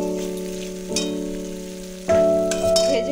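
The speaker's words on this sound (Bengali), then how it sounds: "ভালো করে সবটাকে কষিয়ে নিচ্ছি।" Coriander-powder spice masala for Bengali shukto sizzling and frying in a pan, with stirring scrapes and a steady bright hiss that swells louder near the end; background tonal music runs underneath.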